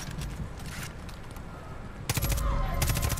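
A submachine gun fires in full-auto bursts in Far Cry 5, short rattling volleys near the start and a loud sustained stream in the second half over game ambience.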